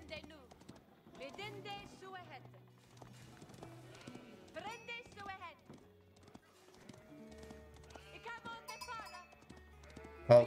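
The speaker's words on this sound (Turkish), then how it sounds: "Al koyunların hepsini." Sheep bleat repeatedly in Age of Empires IV, mixed with horse clip-clop and other farm-animal game sounds, with someone talking over the top throughout.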